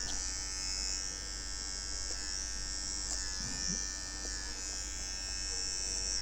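A barber's electric hair trimmer buzzes steadily at close range, holding a constant high drone while lining the sides and nape during a haircut.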